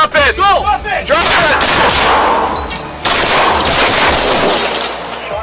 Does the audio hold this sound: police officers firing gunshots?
yes